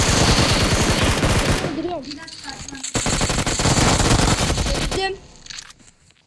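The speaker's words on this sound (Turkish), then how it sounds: "Onu büyük ihtimalle Uzi ile yaktım." Rapid automatic fire from an Uzi in a shooting video game, loud and dense bursts filling most of the stretch, broken by a short gap and trailing off near the end.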